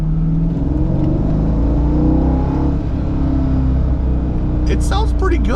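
Stock exhaust on a 2002 Chevrolet C5 Corvette Z06 as the engine is given a little gas, a steady loud engine drone rising in a brief rev under talk, with a higher whine near the end.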